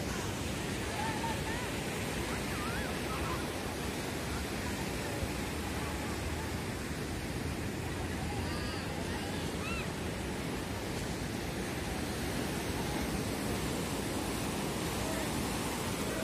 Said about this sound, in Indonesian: Melihat ombak berkejar-kejaran.